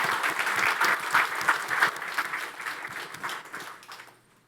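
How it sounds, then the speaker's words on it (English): An audience claps for company presenters at a serverless SQL database talk, dense steady applause that thins and fades out near the end. "So I'd love it if everyone could just give a round of applause to the presenters from these companies."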